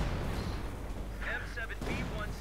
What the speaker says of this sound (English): And now we're just mortaring them to hell.